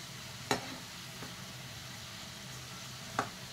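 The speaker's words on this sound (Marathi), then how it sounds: "आपली चंपाकळी भाजून घ्यायची आहे. चंपाकळी आपली भाजत आलेली आहे." Champakali snacks sizzle steadily in hot oil while being stirred, a soft continuous frying hiss broken by two sharp clinks of a utensil against the pan, close and with no talk.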